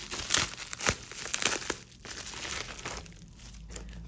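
A crinkly plastic package of buttons being opened up close, with loud crackling and rustling bursts over several seconds, easing into quieter handling.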